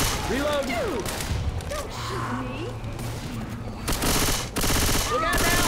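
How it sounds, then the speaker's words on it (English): Rapid gunfire rattles in bursts during a co-op round of Left 4 Dead 2, close and loud, while players shout and talk over the shooting. "Just keep shooting!"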